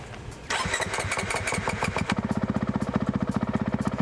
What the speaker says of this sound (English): When you start the engine, you will see how is set up your motorcycle.